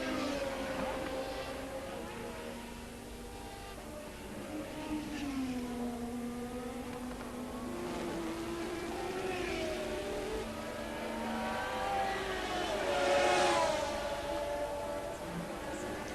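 Formula 1 race cars from 1981 running down a straight, engine notes rising and falling in pitch as they pass, a continuous moderately loud drone with faint commentary voice underneath.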